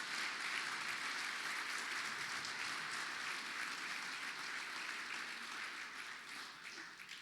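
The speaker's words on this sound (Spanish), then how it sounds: "dale un aplauso" Faint, steady applause from a church congregation rolls on for several seconds, distant and even, then thins slightly toward the end.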